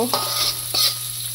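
Chepa shutki bhorta, a dried fish mash, is stir-fried in a pan, with two quick scraping stirs over a steady close sizzle.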